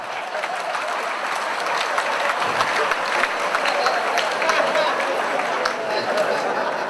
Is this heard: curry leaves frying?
no